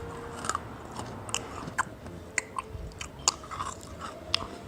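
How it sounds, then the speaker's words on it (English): Dunkaroos being crunched in a sandwich-making video game, a series of crisp, sharp crunching bites spaced irregularly over a quiet background with no talking. "Hear the crunch of these dunks."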